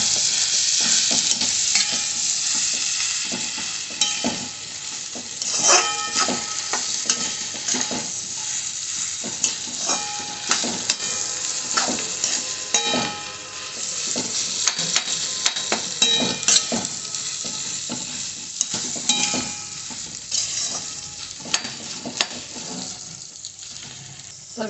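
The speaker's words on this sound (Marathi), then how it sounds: "आता मसाला मस्त फ्राय झाला आहे. आपण याच्यामध्ये बटाटे टाकूया. एकजीव करून घ्यायचं." Potatoes are stirred into spiced masala frying in a pan, giving a steady close sizzle with repeated scraping and knocking of the spoon against the pan throughout.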